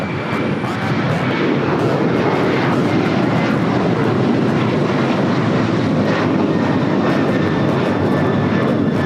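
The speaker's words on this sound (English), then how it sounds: "This is United Airlines 1260 taking off to Denver, Colorado on the 737-900ER" A United Airlines Boeing 737-900ER jet taking off from LAX, a loud continuous roar of engines at full power holding steady throughout, with no talk over it.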